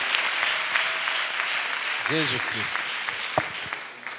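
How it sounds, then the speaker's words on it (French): Church congregation at a missionaries' retreat applauding, a broad steady patter of clapping filling the clip under a preacher's voice and a sung note. "Acclamons d'abord."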